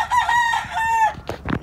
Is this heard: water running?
no